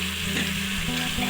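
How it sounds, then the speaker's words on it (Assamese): Rice grains frying in a hot pan for Assamese chicken pulao, a steady broadband sizzle with low rumbling hum underneath and light stirring scrapes, close and continuous. "এতিয়া এনেদৰে ভালকৈ চাউলখিনি অলপ সময় ভাজি ল'ব"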